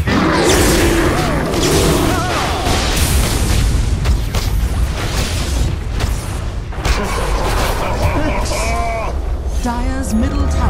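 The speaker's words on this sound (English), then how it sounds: "Dire's middle tower has fallen." Loud, booming Dota 2 game audio of a tower being destroyed, with crashing impacts and bursts over dense battle effects, and a voice talking throughout.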